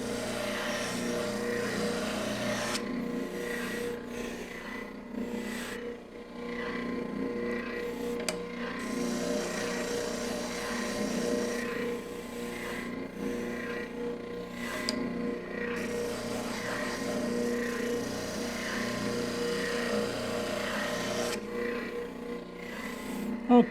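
Hand-sanding the inside curve of bent wood pieces, a steady close rasping rub that runs on continuously with slight rhythmic strokes and brief pauses, with no talk.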